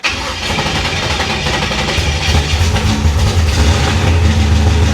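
A 1966 Chevy Impala engine cranks and catches right away, then settles into a loud, close, rumbling idle that rises slightly as it runs, with no talking.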